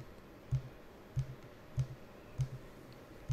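A computer mouse clicking on grid blocks while building simple images, giving five soft, evenly spaced clicks at close range against a quiet background.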